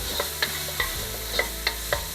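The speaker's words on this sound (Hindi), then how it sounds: "गार्लिक को सौते करके मैंने इसके अंदर तीनों कलर की बेल पेपर्स और कैप्सिकम शामिल किया। हाई फ्लेम के ऊपर इसको कुक करेंगे।" Garlic, tricolour bell peppers and capsicum being stir-fried on high flame, with a steady sizzle under six or seven sharp, evenly spaced clinks of a spatula striking the pan, close and with no talking.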